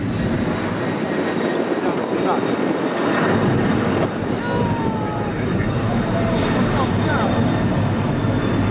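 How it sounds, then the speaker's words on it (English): A huge plane flies low over the Red Bull Air Race in Budapest, its engines a loud sustained roar throughout, with faint crowd noise beneath. "This huge plane flying low over the Red Bull Air Race in Budapest."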